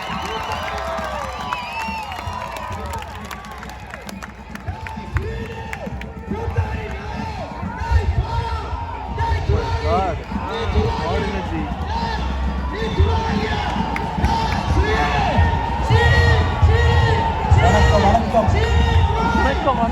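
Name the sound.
crowd cheering and applause for a singer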